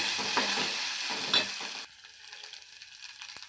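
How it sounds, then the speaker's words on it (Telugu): Ginger garlic paste sizzles and frizzles in a hot pan, a steady close hiss with a few stirring scrapes, the sizzle dropping quieter partway through and continuing softly alone. "అల్లం వెల్లుల్లి పేస్ట్ వేస్తే టేస్ట్ బాగుంటుంది. కొంచెం వేగనియాలి."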